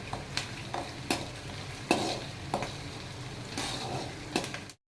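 Garlic and ginger frying in oil for a Kerala-style fish pickle, a soft continuous sizzle punctuated by several sharp spatula scrapes against the pan, close by, before cutting off abruptly.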